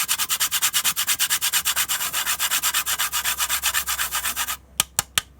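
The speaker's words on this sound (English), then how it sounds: "So I'm going to just grate in some fresh nutmeg." Fresh nutmeg grated by hand, a loud regular rasping stroke repeating about five times a second, stopping near the end with a few sharp taps, no voices.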